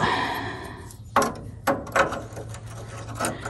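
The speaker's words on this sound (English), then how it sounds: "I gotta get a wrench on that." Ratchet wrench clicks as a socket is worked onto the steering wheel of a 1958 Volkswagen split-window bus, a few sharp separate clacks over a steady low hum.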